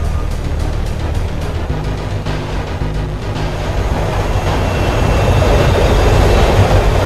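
A subway metro train runs in an animated show, a loud continuous rumble with rattling wheel clatter that builds steadily and stays close, with no voices.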